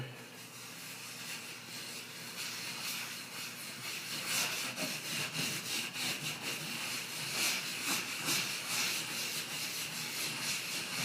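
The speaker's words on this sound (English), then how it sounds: "Watch what happens when I wipe it in here." A wet rag wiping water-based glaze across a crackle-finish wall mural makes a soft, continuous scrubbing rub that grows more textured and rhythmic partway through, close and fairly quiet, with no talking.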